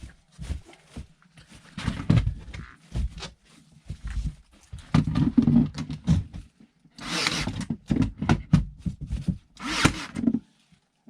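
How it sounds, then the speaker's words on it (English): Pine wall paneling boards being nailed to wall studs in a shed-to-house cabin interior, with a series of sharp, irregular impacts and knocks, fairly close, separated by short quiet gaps. "I'll just keep nailing it up."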